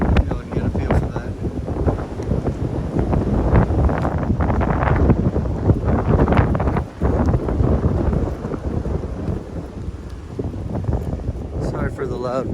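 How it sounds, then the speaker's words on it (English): Loud, buffeting wind rumbles and roars against the microphone on a mountain trail nearly the whole time, gusting unevenly with a brief lull in the middle. "Sorry for the loud windy noise, it's just been incredibly windy."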